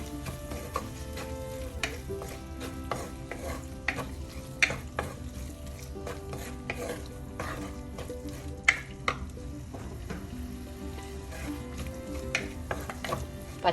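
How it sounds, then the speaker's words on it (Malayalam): Fennel and cumin powder with chili powder are stirred into a curry masala for a fish curry, giving steady scraping and clinking from a spoon against the pan over a low sizzle, with no talking. "ഇതെല്ലാം കൂടെ ചേർത്ത് നമുക്കൊന്ന് മിക്സ് ചെയ്യാം."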